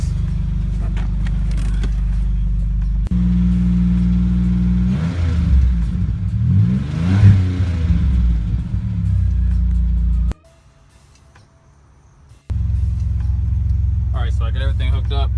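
A car engine idles, then revs up in a few rising pulls while an audio capacitor charges for a subwoofer install, cutting off abruptly before idling again, with someone speaking over it at times.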